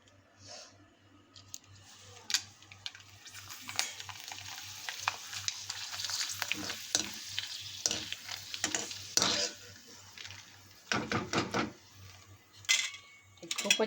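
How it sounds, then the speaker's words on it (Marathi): Sun-dried homemade potato wafers fry in hot oil with a steady sizzle and hiss, while a utensil clinks and stirs through them in scattered metallic taps, louder near the end. "आता आपण हे तळून पाहू."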